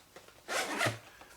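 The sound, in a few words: YKK zipper on Maxpedition range bag side pocket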